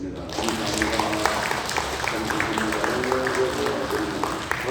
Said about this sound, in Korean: 우리 박수로 감사와 찬송과 영광의 박수를 올려드리겠습니다